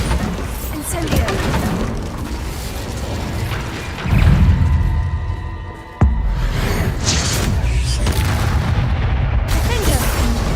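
Repeated spell blasts and booming explosions from combat in the Hogwarts Legacy video game, loud and dense throughout, with a sharp impact midway and shouted incantations over the din.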